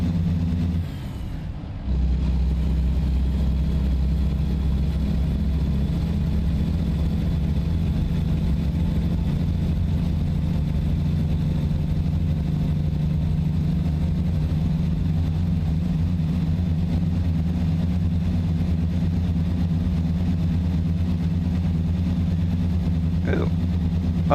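A truck engine in a truck driving video game hums steadily at a low idle-like drone for the whole stretch, loud and constant after a brief dip near the start.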